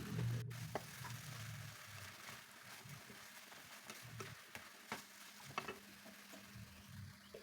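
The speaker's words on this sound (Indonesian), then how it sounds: "Aduk sebentar lagi biar makin meresap" Bitter gourd and eggplant stir-fry being turned in a pan, with soft scraping strokes and a quiet, steady sizzle throughout, occasional light ticks of the utensil against the pan, and no talking.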